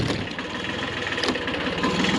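A tractor engine idles steadily with a low, continuous rumble, close and fairly loud throughout, with no voices over it.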